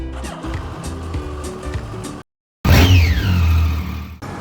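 A Suzuki Hayabusa motorcycle rides through rural Ibaraki, Japan: a loud, close engine roar and wind rush with a rising revving sweep after a brief gap of silence.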